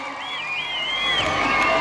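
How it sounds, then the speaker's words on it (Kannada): A crowd at a village festival cheers for a guest film actor, with whoops and rising, falling whistle-like cries over a lively hubbub; the noise is loud and close, and it swells briefly. "ಬಲ್ಲಿ ಜೋರ ಚಪ್ಪಾಳೆ"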